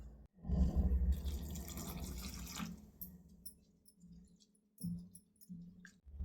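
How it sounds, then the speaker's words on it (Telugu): Water runs onto poha in a bowl to soak it for upma, a close, loud gushing pour that fades into quieter trickles and a few later splashes. "నేనైతే కొద్దిగా వాటర్ వేసి నానపెట్టేసుకుంటాను"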